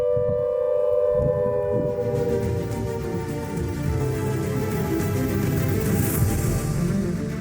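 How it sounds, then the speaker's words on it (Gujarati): An all-clear siren signalling the end of an emergency sounds as a sustained wailing tone that slowly bends downward, then dissolves into a loud wash of broadband noise. "ઇમરજન્સી ટળી ગઈ છે તેની ખાતરી કર્યા પછી એક ઓલ ક્લિયર સાયરન વગાડવામાં આવશે"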